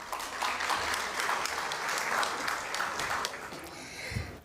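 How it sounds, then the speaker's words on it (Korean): Audience applause welcomes the chair of a session at a Korean church-hosted education forum: steady, dense clapping from a large crowd in a hall, holding for several seconds and then fading at the end. "큰 박수로 맞이하겠습니다"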